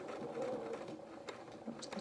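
Sewing machine stitching through fabric while a dungarees garment is sewn, a steady close mechanical whir running for about two seconds with a few slight shifts in pace and a small click near the end.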